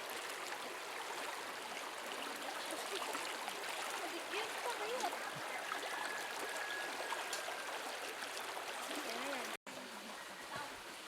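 River stream flowing and trickling steadily along a walking path through the hills, a soft continuous wash of water with faint footsteps and voices.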